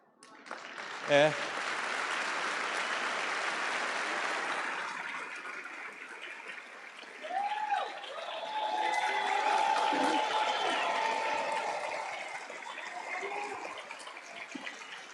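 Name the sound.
audience applause at a keynote event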